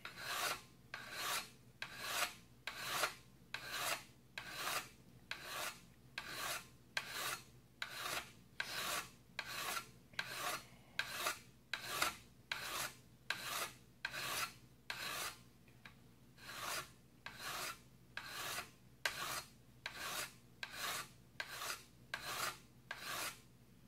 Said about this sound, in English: I'm going to use a sharpening stone, diamond hone, which will make this edge even smoother